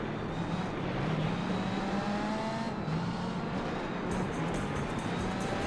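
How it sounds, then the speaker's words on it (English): In Gran Turismo 4, an opponent race car's engine roars close by, a steady loud drone with rising and falling pitch as it holds pace alongside the player's car. "I don't like hearing this guy's engine so close to me."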